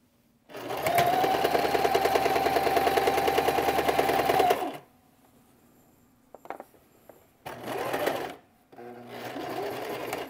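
A sewing machine stitches the final curved patch onto a Rob Peter to Pay Paul quilt block, running in a loud steady whir for several seconds, pausing, then starting again in two shorter bursts.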